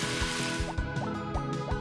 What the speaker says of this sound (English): And let's water right up here.